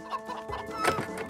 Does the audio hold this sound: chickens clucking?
yes